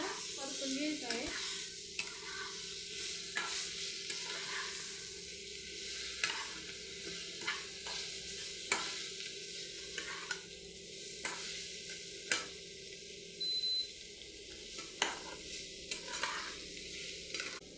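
Bitter gourd pieces being stirred and tossed in a sizzling spice masala in a pan, with a continuous frying hiss and repeated scraping strokes of the spoon, close up and without speech.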